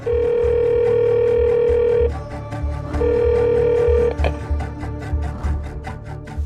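A telephone ringback tone sounds on an outgoing call, a steady loud tone lasting about two seconds, a pause, then a second tone, with faint electronic chatter in the line afterward.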